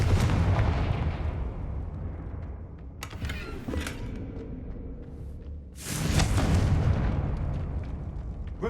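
Confringo fire spells in a Hogwarts video game set off deep, rumbling explosions, with a heavy sustained boom at the start, a crackling burst mid-clip and another loud blast near the end, dense and loud without talk.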